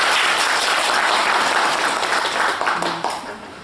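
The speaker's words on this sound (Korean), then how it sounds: "박수 좀 보내주세요." An audience at a Buddhist college summer lecture breaks into dense, loud applause that holds steady and then tapers slightly toward the end, with a brief voice underneath near the close.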